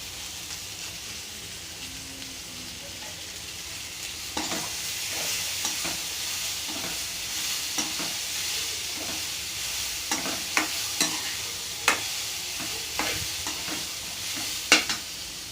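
Green gram being stirred through a hot pan with chopped onion and asafoetida for sundal, a steady soft sizzle with repeated scraping strokes of a spoon, close and continuous, no voices.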